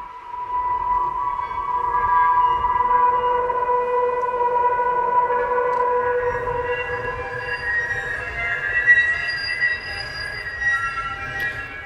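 Sustained screeching metallic tones from an Omnisphere synthesizer grind and waver on and on, shrill and scraping like squealing metal, loud and unbroken.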